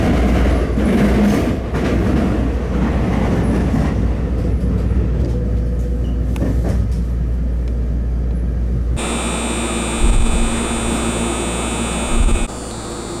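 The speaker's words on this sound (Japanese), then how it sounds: "列車は普通列車小松行きワンマンカーです。" A local one-man train bound for Komatsu, Japan rumbles along with a steady, loud low drone, then the pitch shifts around the ninth second as the motor changes tone, with brief clunks near the end.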